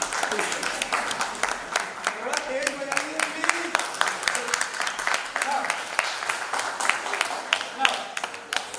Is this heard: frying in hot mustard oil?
no